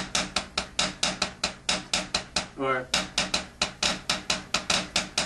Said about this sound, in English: when a student is just getting started out with the double stroke roll, you might hear inconsistencies